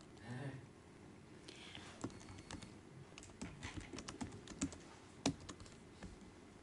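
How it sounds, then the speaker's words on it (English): Typing on a computer keyboard during a Linux firewall talk, with irregular bursts of quiet key clicks in a room and a faint voice briefly at the start. "I'm not great on typing, especially when anybody's watching."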